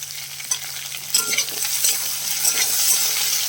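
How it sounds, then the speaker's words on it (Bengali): Tangra fish fry in oil with a steady close sizzle. The crackling grows denser and louder as the pieces settle, and a utensil stirs them now and then. "একসাথে দিয়ে এইভাবে ভেজে নেবে বন্ধুরা"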